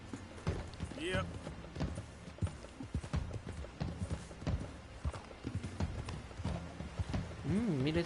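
Horse hooves clip-clop steadily in Red Dead Redemption 2, the rhythmic hoofbeats sitting close under a game soundtrack, with a brief whinny and someone talking over them.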